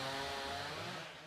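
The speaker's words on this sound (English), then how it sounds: "The buzzing of chainsaws is echoing throughout several metro area neighborhoods" Chainsaws cutting up fallen trees in a metro area neighborhood, a steady buzzing whine that holds loud and close for the whole second and a bit, fading only slightly at the end.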